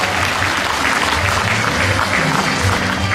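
Thick, continuous applause from a crowd at a Korean pop music awards ceremony, loud and even throughout with a murmur of the hall beneath it.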